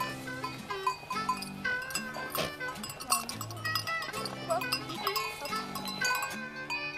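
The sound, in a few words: goats and ewes at milking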